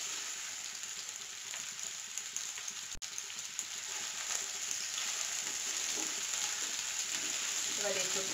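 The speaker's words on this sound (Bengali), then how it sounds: "খুব বেশি ফ্রাই করার দরকার নেই, মোটামুটি একটু শ্যালো ফ্রাই মতো করে নিবি" Raw jackfruit shallow frying in oil in a pan, a steady close hiss and crackle of sizzling that runs unbroken throughout.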